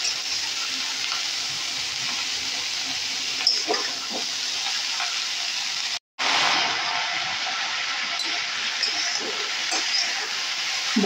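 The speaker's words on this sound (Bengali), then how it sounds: "সবজিগুলোকেও আমি একটু ভাজা ভাজা করে নেব।" Mixed vegetables with salt and turmeric fry in a pan for Bengali chorchori, giving a steady hissing sizzle with occasional stirring clicks and a brief cut in sound partway through.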